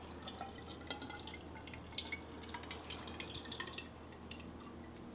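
Water drips from a leaking PC water-cooling reservoir, faint irregular patters and small droplet ticks over a low steady hum, quiet and close with no talking.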